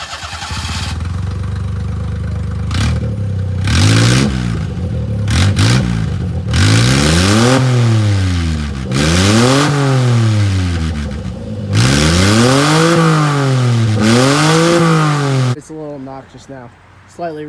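A mini truck engine with its muffler cut off, fitted with a custom dirt bike exhaust, revving hard in repeated rising and falling bursts, loud, raw and close, then dropping to a rough idle.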